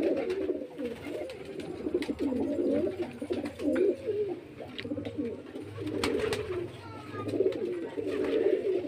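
Giribaz pigeons of the Murshidabad line coo steadily and close up in a loft, overlapping soft rolling calls with faint wing flutters and clicks.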